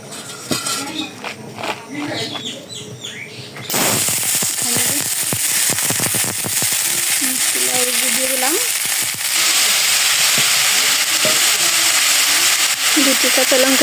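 Oil hissing hard in a hot wok as sweet bottle gourd goes in, a loud sudden sizzle that cuts in after a few seconds of quieter room noise and keeps crackling steadily, with some voice-like sound underneath.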